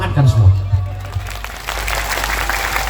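Audience at an Islamic religious lecture in Pamekasan, Madura, breaks into hand clapping, a dense crowd patter that rises after a voice and continues to the end.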